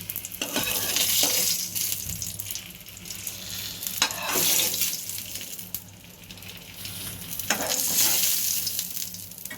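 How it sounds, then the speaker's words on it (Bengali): Lentil dumplings (bori) fry in hot oil in a pan for a pabda fish curry with brinjal: a continuous close sizzle and crackle, with periodic bursts of louder spattering as the pieces are stirred. "বড়িগুলো আমার ভাজা হয়ে গেছে"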